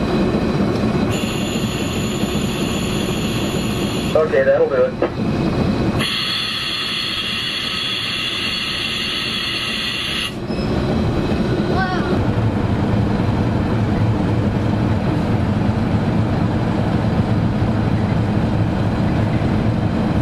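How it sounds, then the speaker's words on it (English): Museum train on the Erie Main Line backing down toward the station, a steady low rumble of railcars rolling close by, with brief bursts of bright high-pitched noise partway through and a short spoken remark. "The train is now backing down towards the station, which is built on the Erie Main Line."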